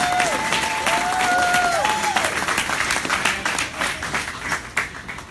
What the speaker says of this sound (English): Give them a quick round of applause